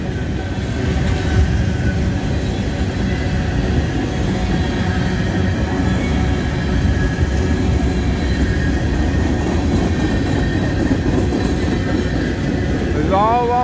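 A northbound auto rack freight train rolls steadily through Abbeville, a continuous loud rumble of wagons and wheels lasting throughout, with a brief wheel squeal near the end and no horn.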